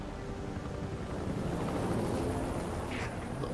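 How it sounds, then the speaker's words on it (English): A helicopter approaches in the Metal Gear Solid 5 video game, a steady, loud, broadband rotor rumble and whoosh that holds throughout with no talking. "Helicopter inbound."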